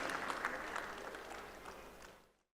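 An audience at a road safety workshop in Lucknow applauds during a lamp lighting ceremony, with steady, fairly soft clapping that fades and cuts off abruptly.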